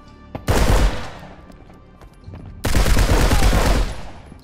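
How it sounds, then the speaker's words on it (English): Two loud bursts of rapid gunfire in the shooter game Marauders, the first short and sharp, the second a longer sustained volley, with no talking. "I may have shot too high on the first guy"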